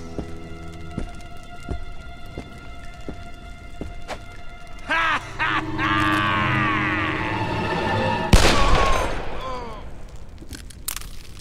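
A single sharp gunshot in a Call of Juarez: Bound in Blood Western cutscene, one loud crack over dramatic music and dialogue.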